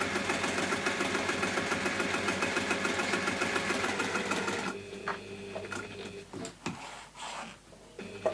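A sewing machine stitches the corner of a clutch bag in a fast, even mechanical chatter for about five seconds, then stops, leaving a few scattered clicks and handling taps.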